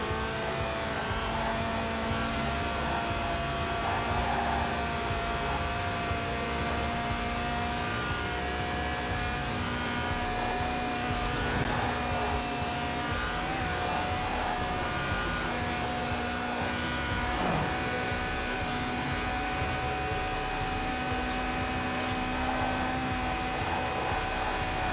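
A Lotus sports car in Forza Horizon 4, its 1.8-litre engine revving toward 8,000 RPM, drones steadily throughout, a sustained loud mechanical whine with shifting pitch and no voices.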